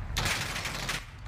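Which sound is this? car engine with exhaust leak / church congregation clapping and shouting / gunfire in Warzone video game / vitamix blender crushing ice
gunfire in Warzone video game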